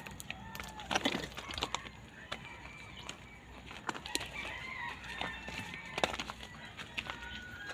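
Outdoors on a hunting outing, faint bird calls, crowing and clucking from fowl, sound at a distance, with scattered sharp knocks and rustling over a quiet background.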